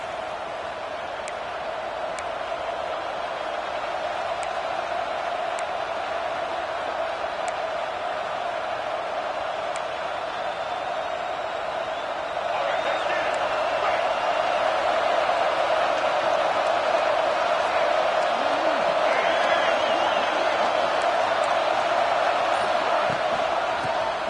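Dense stadium crowd roar at an Auburn Tigers college football game, a steady loud wash of many voices that swells louder about halfway through and holds, with no commentary over it.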